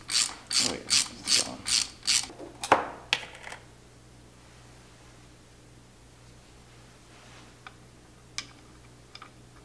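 A ratchet clicks through about seven quick strokes, loud and close, as a flywheel extractor is tightened on a motorbike engine, then a couple of clunks and near quiet with a few faint ticks; someone speaks briefly.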